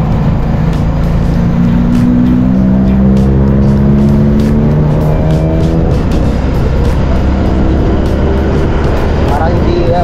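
A motorcycle engine on a tricycle runs with a loud, steady droning hum that wavers in pitch, close to the microphone, while people talk over it.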